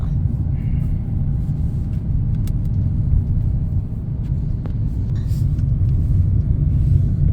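A car drives along a scenic road through the countryside, giving a steady low rumble of engine and road noise that stays continuous and moderately loud with no talking.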